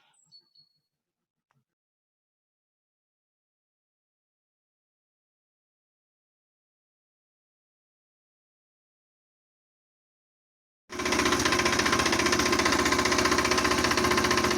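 A Motor Sich D-250 engine on a motor block, wired to an Alfa-110 ignition switch, bursts into a loud, steady running chatter after a long silence with a few faint clicks, idling evenly to the end.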